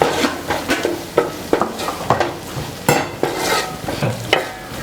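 Masala being stirred into mutton curry frying in a pan for a shappu-style curry: repeated scraping strokes of a spoon against the pan over a steady close sizzle, loud and irregular, with no talking.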